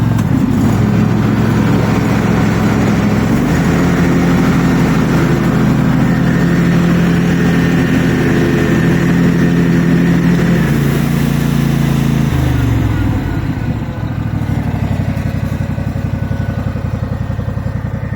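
A Husqvarna garden tractor runs steadily with its mower deck blades engaged, a loud, continuous low engine drone with a slight shift in pitch partway through, no voices over it.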